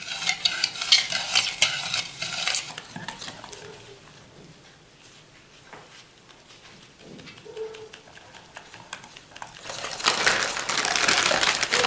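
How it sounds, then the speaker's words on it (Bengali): A spatula folds flour into eggless orange cake batter in a bowl, giving soft, close scraping and squelching strokes that are louder at the start and end and quieter through the middle, with no talking. "খুব সাবধানে আস্তে আস্তে ময়দাটাকে মেশাবেন"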